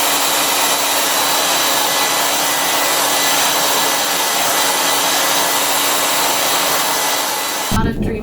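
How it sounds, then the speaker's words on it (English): A hairdryer blows a loud, steady roar over wet paint on an artwork, running unbroken for several seconds before cutting off abruptly at the end. "you can take a hairdryer"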